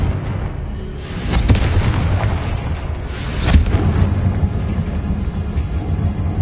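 A loud, booming blast from the Confringo fire spell in a Harry Potter video game, with a deep rumbling body and a couple of sharp bursts partway through, sustained over several seconds with no talking.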